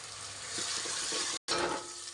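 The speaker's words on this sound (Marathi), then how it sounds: "कांदा आणि टमॅटो चांगलं परतायचं" Chopped onion and tomato sauté in hot oil, a steady broadband sizzle with soft stirring scrapes, broken by a brief silent gap before the frying resumes close and even.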